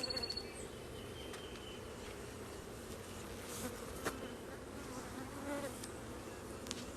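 Honeybees buzz steadily at an opened hive during a queen inspection, a dense, continuous drone with occasional single bees flying close past the microphone, and no talking.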